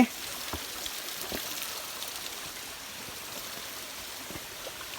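Water of Chim Yai waterfall in Phetchabun flowing and splashing, a steady soft rush with scattered droplet-like ticks throughout, heard alone.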